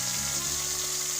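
Koi fish fry in hot oil in a pan for a traditional Bengali dish, giving a close, steady, loud sizzle with continuous crackling throughout.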